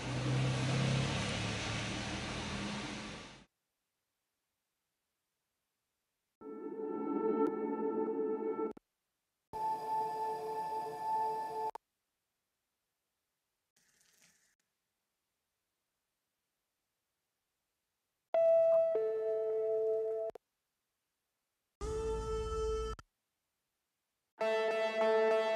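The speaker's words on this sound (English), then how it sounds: "I put atmosphere one-shot sounds" Separate atmospheric one-shot samples pitched to the song's key, each a swelling tonal burst of a few seconds with gaps of silence between, some with sustained harmonic tones, heard alone without voices.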